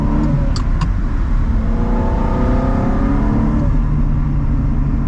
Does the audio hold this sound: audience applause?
no